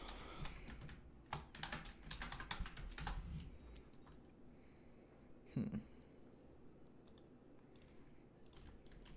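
Fingers type on a computer keyboard in a rapid, faint run of clicking keystrokes, then a quieter stretch with a few scattered taps and one louder knock, heard close in a quiet room.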